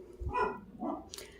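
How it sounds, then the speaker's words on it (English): A dog barks indoors, one or two short close barks with a low thump, heard alone without talk. "That's my dog."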